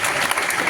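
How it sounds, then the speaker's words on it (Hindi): Brief burst of audience applause at a career talk held at LPU in Jalandhar, a dense steady clatter of many hands clapping together at close range, with no voices rising above it. "मुझे एक बार जोरदार तालियां बजाइए।"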